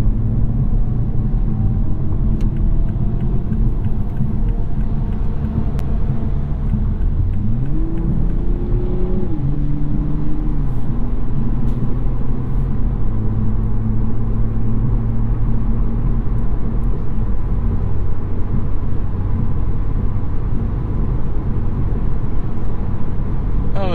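A 2021 Toyota Supra 3.0 cruises at highway speed, its engine droning steadily under road and tire rumble, with one shift in engine pitch partway through, loud and continuous.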